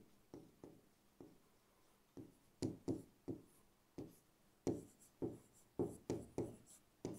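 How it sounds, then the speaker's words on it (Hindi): A pen writes on a paper map in short, close strokes, a dozen or so separate scratchy taps at an uneven pace that grow busier in the second half, quiet and with no talking. "सतपुड़ा पर्वत यहाँ पर लिखेंगे"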